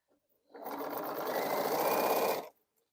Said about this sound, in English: now I'm just sewing 2 patch units